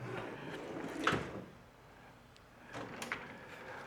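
A narrow top drawer of a metal toolbox slides open with a scraping rattle and a sharp clunk as it stops, followed by a second, softer rattle of contents shifting, heard close up.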